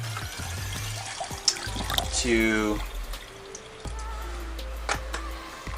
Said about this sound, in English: you want to fill your vase with the water that you are